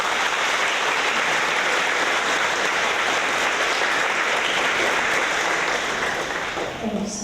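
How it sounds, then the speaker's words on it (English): Steady, dense applause from a school audience at a fourth-grade awards event at Westwood, cheering the Safety Patrol students, holds at full strength and fades slightly near the end as a voice begins. "So let's give them a round of applause, please."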